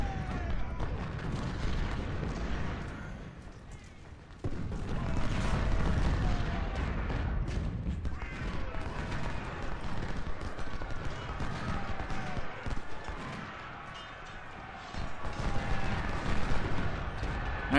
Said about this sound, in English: Although they're taking a lot of artillery fire anyway.